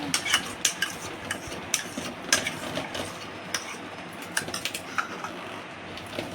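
Cake batter of rava, eggs and oil being stirred in a bowl, a close, fairly quiet run of irregular utensil scrapes and clinks against the bowl, with no talking.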